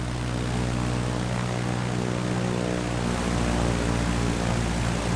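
A Cessna 152 propeller engine in Microsoft Flight Simulator 2020 drones with a steady, loud, continuous hum and layered harmonics, holding constant throughout with no talking.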